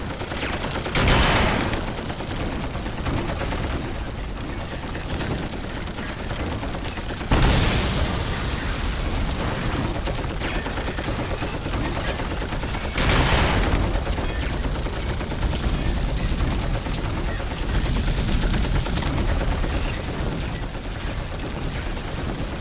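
Heavy gunfire and booming blasts from the video game Warhammer 40,000: Dawn of War, a dense continuous battle barrage with several loud surges of explosions over sustained shooting, no talk.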